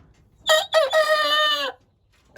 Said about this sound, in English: So yeah, he's definitely a rooster